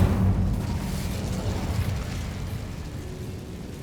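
A roaring burst of fire from the Incendio spell in Hogwarts Legacy, a loud whooshing, rumbling blast that starts strong and slowly tapers off, heard alone with no talk.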